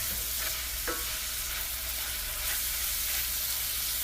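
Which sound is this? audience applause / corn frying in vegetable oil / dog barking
corn frying in vegetable oil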